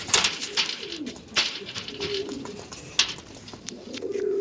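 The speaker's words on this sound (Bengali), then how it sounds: "প্রচুর অ্যাগ্রেসিভ প্রচুর বিগ সাইজের পায়রা দেখুন" Large, aggressive pigeons kept at a pigeon farm coo in throaty rolling calls, several birds overlapping nearby, with occasional sharp knocks and flutters and no talking.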